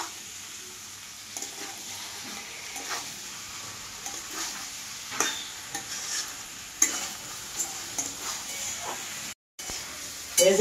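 Beetroot frying in a pan with salt, stirred now and then: a faint, continuous low sizzle broken by small scraping clicks and stirring knocks.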